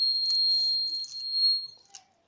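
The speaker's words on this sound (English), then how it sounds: "Temperature 66, alarm on." High electronic tone of a temperature alarm on a Wi-Fi agricultural sensor monitoring system, a steady piercing beep that holds for about a second and a half, then cuts off with faint clicks.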